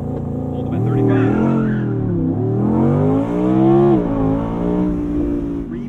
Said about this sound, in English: What a noise this V10 makes.